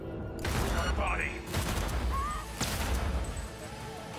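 Unsilenced gunshots in Cyberpunk 2077, a few sharp cracks spaced through busy game noise, with a voice talking over them.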